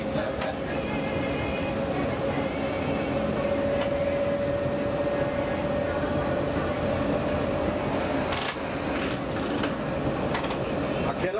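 Passenger train running with no conductor aboard, heard from the driver's cab: a steady, loud rumble with a sustained tonal hum throughout, a few faint clicks, and a brief burst of hissing near the end.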